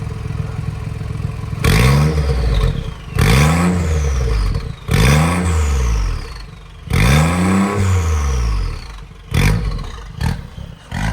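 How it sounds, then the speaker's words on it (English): A BMW i8 fitted with a Valvetronic exhaust and high-flow catalytic converter revs hard in a series of about five loud, rising-and-falling bursts with brief pauses between, followed by a few short blips at the end, close up and with no talk. "rev it again"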